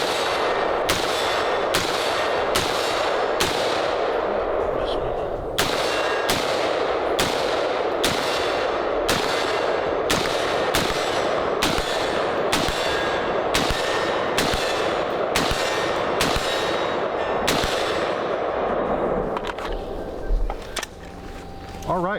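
An AR-15 rifle fires 5.56 rounds outdoors in a long run of loud, sharp, evenly paced shots, with a brief pause partway through and the firing ending near the close.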